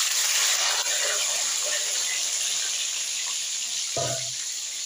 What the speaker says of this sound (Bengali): আমি প্রথমেই ডিমগুলো গরম তেলে ছেড়ে দিই।